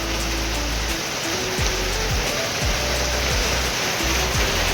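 Steady broadband rain pours down outdoors during monsoon weather while food is being cooked, a continuous dense hiss holding at an even level throughout, with no voices over it.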